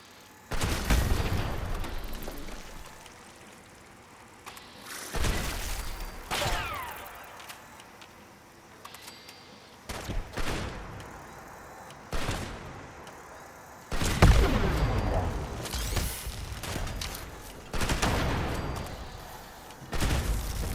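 Explosive Gauss shotgun blasts in Fallout 76, firing in a slow series of loud, booming shots spaced a few seconds apart, each with a sharp crack and a rumbling explosive tail, with no talking.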